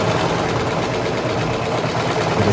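A serger sewing machine runs steadily at speed, trimming the excess edge off a cotton face mask strap with a dense, even mechanical whir held close and loud throughout.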